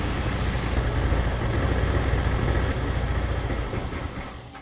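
A cold Motorstar ADV175 scooter engine idles with a steady low rumble, loud and close throughout, then fades out as it stalls near the end.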